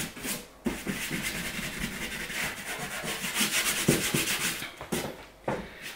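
A finger rubbing charcoal onto the tweed covering of a 1952 Fender Tweed Pro amp cabinet, a close, steady scratchy friction that runs almost continuously in short strokes, heard alone.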